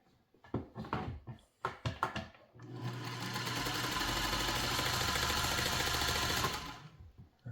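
A Singer 301 sewing machine set to a longer stitch, with a few short mechanical clicks and handwheel turns before the motor runs steadily for about four seconds of close, even, rapid stitching, then stops.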